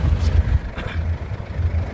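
Exhaust of a 2012 silver LV turbo car vibrating with the engine running, a steady low rumbling drone with pulsing throb, close and continuous, no talk over it.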